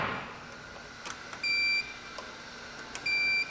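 A multimeter sounds its continuity beep while testing a Lionel FasTrack model train track: two sharp electronic tones of about a third of a second each, a second apart, over quiet clicks of probes touching rails.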